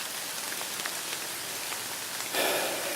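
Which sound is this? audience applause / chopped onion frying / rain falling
rain falling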